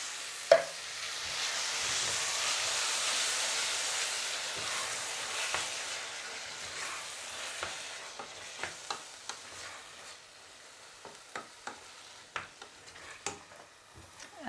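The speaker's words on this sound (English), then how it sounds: "Now we are going to add the canned tomato." Canned tomato, one 400 g can, poured into a sizzling pan of meatless lentil bolognese, giving a steady loud frying hiss that gradually fades, followed by scattered scraping stirs and light clicks of a utensil against the pan.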